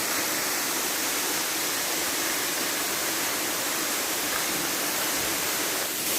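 The tall Sarasah waterfall in Palembayan, Agam, West Sumatra, roars as a steady, loud, broadband rush of falling water, unbroken and alone, with no voices.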